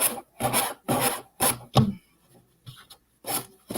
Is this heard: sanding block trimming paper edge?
yes